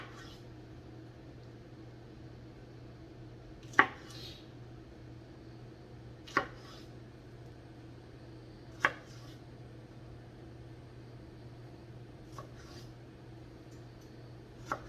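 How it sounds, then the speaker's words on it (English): A knife splits fresh okra pods in half on a cutting board, producing sharp, distinct chops spaced a few seconds apart over a steady low hum. "Just going to take them and split them in half."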